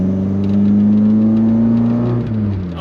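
A Volkswagen Golf MK1 engine drones loudly and close while driving, a strong steady tone rising slightly in pitch before easing off near the end, with no voices.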